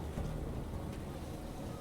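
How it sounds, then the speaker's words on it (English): Constant rain falls along the shores in the video game Brighter Shores, a dense, even hiss with a low rumbling undertone. "The fact that it's constantly raining on the shores."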